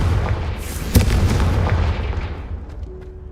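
A Confringo fire spell blast in the video game Hogwarts Legacy: one loud booming burst about a second in, then a rumbling, crackling decay that fades over the next couple of seconds.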